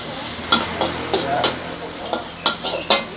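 Rice with kencur being stir-fried in a pan, with soft steady frying hiss and a few scraping stirs of the spatula recurring at uneven intervals.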